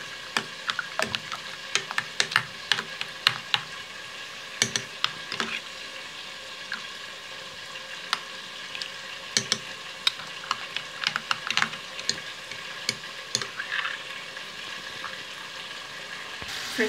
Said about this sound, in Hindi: जब तक हमारा मसाला जो हमने रखा है भूनने के लिए